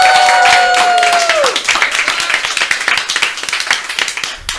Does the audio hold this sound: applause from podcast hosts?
yes